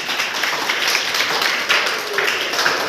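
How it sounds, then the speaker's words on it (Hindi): A classroom of students claps together after a teacher's prompt, a dense, lively burst of applause with slight swells that runs steadily throughout. "इनके लिए जोरदार ताली बजाइए।"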